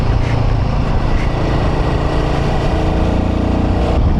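A BMW 310 GS motorcycle engine running steadily, close and loud, with a continuous drone that shifts slightly partway through.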